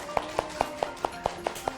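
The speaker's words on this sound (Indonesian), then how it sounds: "Ya, tepuk tangan untuk Troy." Children in a classroom clap together in an even, regular rhythm, about eight sharp claps in under two seconds, close and distinct, with no talking over them.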